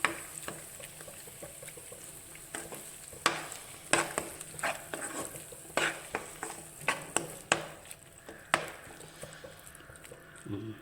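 Egg cooks in a pan for kothu idli while a spatula breaks it up and stirs, a rapid series of sharp metallic scrapes and clacks over a continuous sizzle, close up and without speech.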